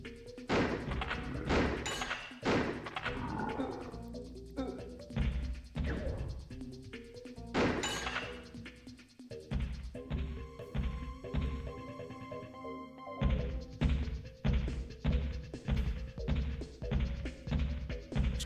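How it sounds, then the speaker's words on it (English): Heavy thuds, crashes and whacks from combat with a Minotaur in a video game, repeated game impacts over a droning musical score, loud and close with no talk. "am I fighting a Minotaur now?"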